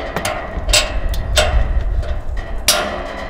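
Ratchet strap being cranked tight on a hitch-mounted motorcycle carrier, giving several sharp, close clicks at irregular intervals over a low rumbling background.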